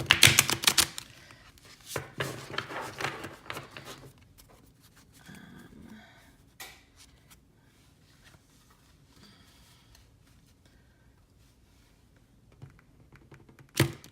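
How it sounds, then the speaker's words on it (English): A deck of New Era Elements playing cards being shuffled, bursts of rapid riffling and snapping cards near the start, then quieter scattered clicks and slides, with a final brief flurry at the end. "it's super awkward shuffling with a tripod in between me and the cards"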